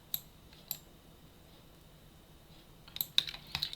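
Sparse, faint clicks of a computer keyboard as the Alt and Shift keys are pressed, a couple of isolated taps followed by a quick cluster of keystrokes near the end, in a quiet room.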